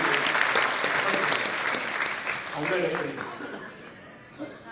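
Dense audience applause at a business seminar, loud and steady at first, then thinning and fading out toward the end, with a bit of chuckling and talk mixed in.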